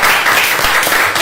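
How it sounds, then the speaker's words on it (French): Audience applause at a round-table panel event, a steady wash of many hands clapping together, fairly loud and close, filling the short moment without talk. "On applaudit."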